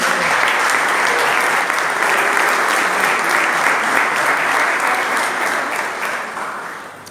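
A church congregation at a Pentecostal sermon applauds together, loud, sustained clapping filling the room for several seconds before slowly tapering off near the end.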